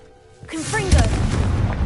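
In a wizarding video game, the Confringo blasting spell sets off a loud explosion: a short whooshing cast is followed by a heavy, booming burst that rumbles on as the blast dies away.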